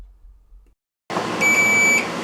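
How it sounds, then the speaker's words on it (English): A multimeter continuity beep during a Samsung dryer heat element check, a single clear high electronic tone lasting about half a second after a brief silence, with no voices over it. "And if it beeps, that means it's good."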